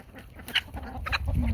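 Ameraucana chickens, the blue-egg-laying breed, clucking on a farm in soft, uneven bursts with low background rustle, fairly close and without talk.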